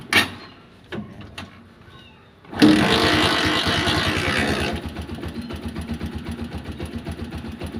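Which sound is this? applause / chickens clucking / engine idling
engine idling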